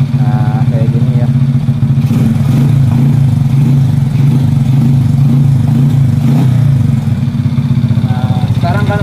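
A Honda Supra motorcycle engine idles steadily after a cam chain replacement, a loud close rhythmic putter with no rattle, continuous for the whole stretch.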